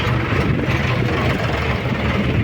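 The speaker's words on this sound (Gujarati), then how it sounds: "અહીંયા ટ્રેક્ટર ખાલી કરે છે." A tractor engine runs at a steady idle, a loud, continuous low rumble with no pauses.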